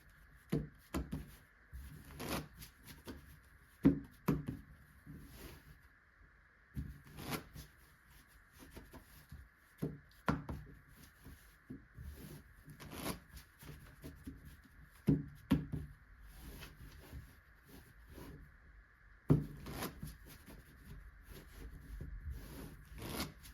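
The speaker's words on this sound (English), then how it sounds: "So let's just get to shuffling." A double deck of playing cards being shuffled by hand, with repeated riffling bursts and soft knocks as the deck is squared, close and clear with brief pauses between shuffles and no talk.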